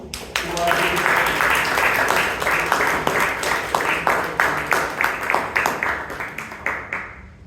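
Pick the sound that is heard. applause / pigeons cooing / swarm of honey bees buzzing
applause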